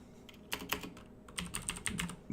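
Typing on a computer keyboard, close and fairly quiet, a brief pause followed by a quick run of clicking keystrokes with no talk.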